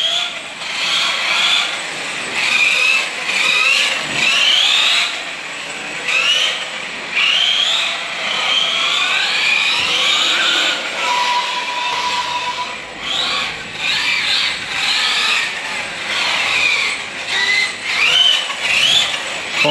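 An electric MCD XR5 Max5 G2 RC car with a 56118 650kV motor and 24-tooth pinion is driving, its motor whine rising and falling steadily and sweeping in pitch as it accelerates and slows, with no talking.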